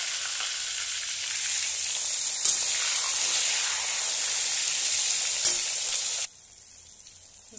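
Brinjal slices fry in a pan for a home-style shukto, giving a loud, steady hiss of oil that holds evenly for several seconds, then cuts off sharply to near quiet.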